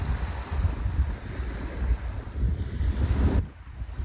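Strong wind buffeting the microphone in a continuous low roar with gusts at Nara Inlet in the Whitsundays, cutting out abruptly near the end.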